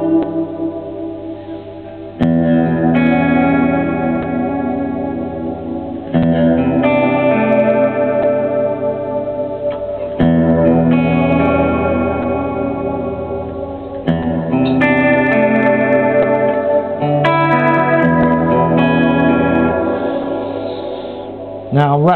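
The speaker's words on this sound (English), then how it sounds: "we go to modulation, give you a sort of chorus effect" Electric guitar chords ring out through a lush reverb pedal with chorus modulation on the reverb, a wavering shimmer, each strum blooming and decaying into a wash before the next.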